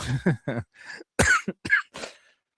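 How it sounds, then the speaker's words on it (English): A series of several harsh coughs in quick bursts, close and fairly loud, with short pauses between them. "I had to cough it out."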